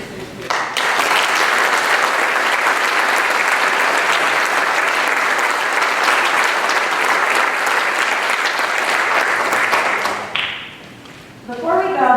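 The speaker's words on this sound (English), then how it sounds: "one more last round of applause for our 2020 inductees, our 2021 inductees," A high school audience at a National Honor Society induction ceremony gives a long, loud round of applause for inductees and seniors, steady dense clapping that cuts off sharply, followed by a voice speaking.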